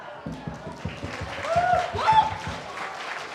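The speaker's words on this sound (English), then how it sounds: "let's give a round of applause to everyone sitting in the audience for their generous support" Audience at a charity gala dinner in Toronto claps in a modest, rhythmic patter of hands with crowd murmur and voices mixed in, swelling briefly near the middle.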